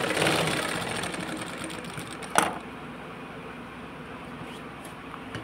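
A domestic sewing machine runs at a steady whirring, rattling pace while stitching an embroidered blouse, with one sharp click partway through before it settles into a quieter, slower hum.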